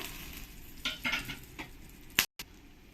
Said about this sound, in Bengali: এবার আমি এই তেলের মধ্যে এক চামচ জিরে দিয়ে দেবো